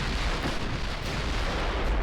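Heavy naval guns boom in a British campaign naval video game battle against destroyers, giving a dense, loud, continuous rumble of deep blasts with no speech.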